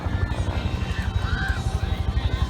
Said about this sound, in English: coming down in front with the sound of that rotor, that amazing sound that was so common in Vietnam